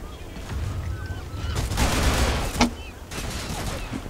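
Gunfire in the Turkish FPS game Zula, with a burst of shots and one sharp crack amid game noise, fairly close and loud, with no talking.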